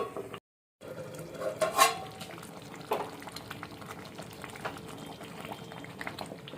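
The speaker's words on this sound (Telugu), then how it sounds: "మూత పెట్టి పులుసు దగ్గరకు వచ్చే వరకు ఉడికించుకుందాం" Fish curry simmering in a covered pot, a soft steady bubbling close by with a few light clinks of the lid or utensil, quiet and without speech.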